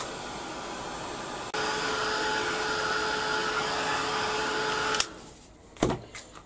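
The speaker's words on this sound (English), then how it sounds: "now I'm going to heat set the embossing" A heat gun heat-setting embossing powder on a handmade card gives a steady, quiet electric whir for about three and a half seconds, then cuts off, followed by a few small handling clicks.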